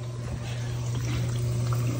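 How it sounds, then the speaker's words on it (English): A newly installed dishwasher running a normal wash cycle makes a steady, close rush of water with a low mechanical hum underneath that holds even throughout. "The water is going through."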